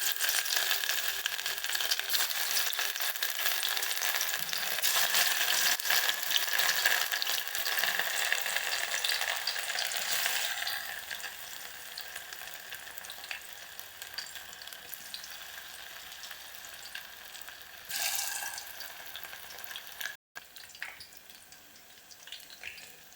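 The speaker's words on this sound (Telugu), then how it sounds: "ఇప్పుడు ఒక్కొక్కటి వేసుకొని ఫ్రై చేసుకుందాం" Pakoda batter pieces shallow frying in hot oil, a steady loud sizzle that fades to a quieter, softer crackle partway through, with a brief gap near the end.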